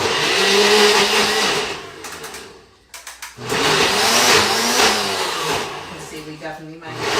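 A kitchen blender whirs loudly making a smoothie, cutting off briefly with a few short pulses before roaring back and running on with shifting pitch.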